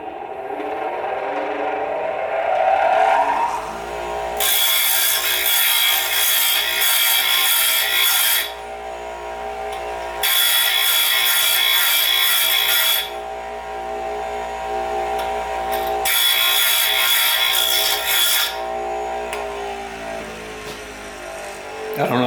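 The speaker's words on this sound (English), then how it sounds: "So the next thing we have to do is sharpen the tungsten. And this is a grinder that I made." A homemade bench grinder with a McMaster-Carr wheel sharpens a tungsten TIG electrode, the motor humming between three loud bursts of bright, hissing grinding, each lasting a few seconds.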